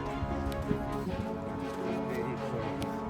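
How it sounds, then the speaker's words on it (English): Horses walk at a safari lodge near Harare, Zimbabwe, their hooves clip-clopping in an uneven rhythm at moderate distance beneath a steady outdoor background hum. "What's over there? Horses."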